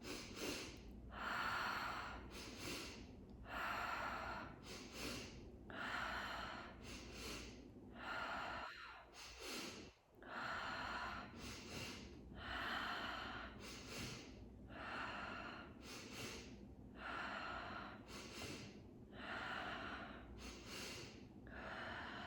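Breathwork breathing rounds, with sharp rhythmic nasal inhales and exhales repeating about every second and a half, close and steady, and one brief pause partway through.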